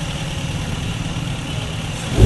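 A Toyota GLI 1.3 car engine with a misfiring problem runs at a steady, low rumbling idle up close, rising slightly at the very end as it begins to rev.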